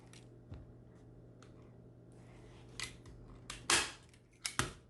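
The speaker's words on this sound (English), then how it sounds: "So I'm gonna go ahead and just staple right here" A staple gun fires into fabric stretched over a bar stool seat during reupholstering. Several sharp snapping clacks land late in a quiet stretch, with one faint click early on, close to the listener and without speech.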